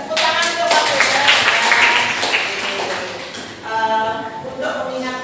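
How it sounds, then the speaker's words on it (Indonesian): A group claps hands together in a teachers' academic coaching session, a brisk burst of several seconds that ends abruptly, followed by a person talking. "Tepuk tangan untuk Pak Bagas"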